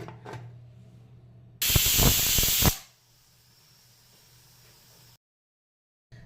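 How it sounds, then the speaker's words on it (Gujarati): A pressure cooker cooking tomato sauce lets out a loud, sharp hiss of escaping steam for about a second, then falls back to a faint background hum before silence. "હવે આને બંધ કરી અને 2 વિસલ થતાં સુધી આપણે રવા દઈશું"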